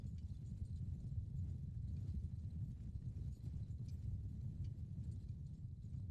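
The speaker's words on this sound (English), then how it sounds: "Get my cavalry ready to go." Cavalry horses trot in a strategy game, a dense, steady low clatter of many hooves rolling on without pause, close and fairly loud with no voices over it.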